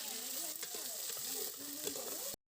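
Peas frying in a pan with oil, a steady close sizzle with light stirring scrapes, cutting off abruptly at the end.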